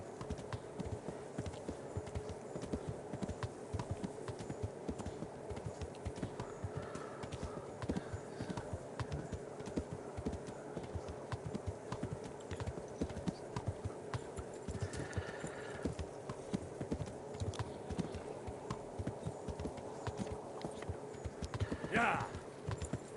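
Steady clip-clop of a horse's hooves in Kingdom Come Deliverance keeps an even trotting beat throughout, close and constant, with a brief whinny-like cry near the end and light background game sounds.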